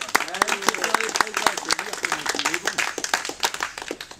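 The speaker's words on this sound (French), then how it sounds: "Je voudrais que vous l'applaudissiez." An audience claps at a public event, with a scattered patter of handclaps running beneath a person talking, the clapping fairly close and uneven throughout.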